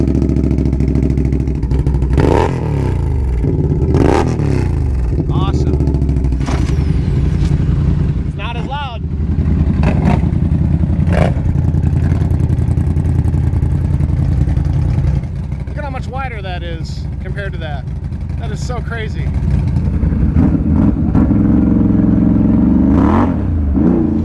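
A Polaris Scrambler XP1000S fitted with Get Torqued dual dominator exhaust idles loud and raspy nearby and blips its throttle again and again in sharp revs, with a rider talking over it.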